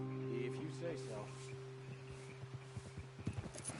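Horses' hooves in Red Dead Redemption 2 thud in an irregular clip-clop that grows more distinct toward the end, beneath people talking and a soft tonal music bed.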